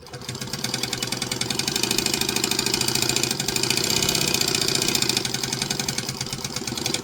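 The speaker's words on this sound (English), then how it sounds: "And only sew as fast as you are comfortable doing." A sewing machine runs steadily while stitching a quilt binding with a quarter-inch seam allowance, giving a dense, continuous mechanical whir with a fast, even pulse throughout, loud and close, with no talking.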